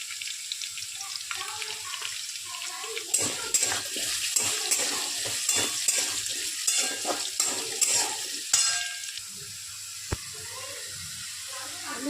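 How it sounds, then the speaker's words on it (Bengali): Potatoes frying in a pan with salt and turmeric, a soft steady sizzle broken by clattering stirs and scrapes of a utensil against the pan, close up and fairly quiet. "আলুগুলো একটু লাল লালভাবে ভাজা হয়ে গেলে এগুলোকে তুলে ফেলবো।"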